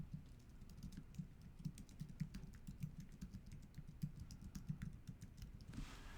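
Someone types a zip code on a computer keyboard, a rapid run of quiet, close key clicks in an uneven rhythm against a low background hum.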